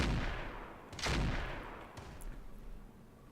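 Weapon fire in the BattleTech video game with the RogueTech mod, a heavy burst around the one-second mark over a constant low rumble, then fainter distant shots and mechanical noise.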